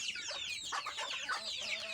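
Desi chickens cluck softly close by in the morning, with a busy run of short, high chirping calls overlapping one another.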